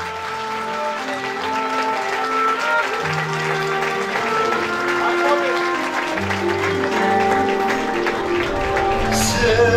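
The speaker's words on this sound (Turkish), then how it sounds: "Fulya ve Fırat'ı huzurlarınıza canı gönülden bir alkış istiyorum sizlerden" Wedding guests at a Turkish wedding hall applaud the couple, a steady wash of clapping under loud music with a sung or spoken voice over it throughout.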